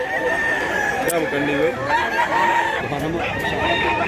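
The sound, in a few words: rooster crowing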